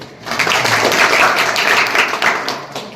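A crowd of students claps steadily for about three seconds in a school hall, honouring the top-ranked pupils of a selection exam at a Bangladeshi high school and college. The applause is dense and continuous.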